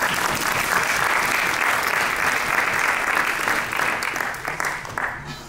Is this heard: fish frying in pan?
no